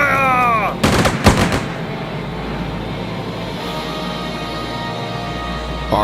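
Gunfire and artillery in the PC strategy game Strategic Mind: Spirit of Liberty: a rising whine, then a few sharp, loud blasts close together, fading into a sustained low rumble.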